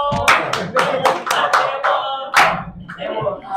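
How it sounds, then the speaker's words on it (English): Loud, close clapping at a police press briefing, a few sharp irregular hand claps spaced across the moment with voices murmuring underneath. "Please give him a big round of applause."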